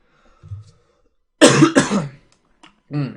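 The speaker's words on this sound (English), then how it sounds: "I was supposed to like cover my cough, right?" A short cough is followed by a throat clearing, close and fairly loud, with a brief pause between.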